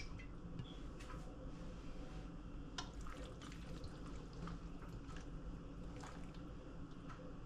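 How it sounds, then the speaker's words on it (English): Extra virgin olive oil is poured over a raw Thanksgiving turkey in a kitchen, giving a faint, steady liquid trickle with scattered soft drips and splashes over low background hiss. "this is extra virgin olive oil. I'm just gonna pour some all over."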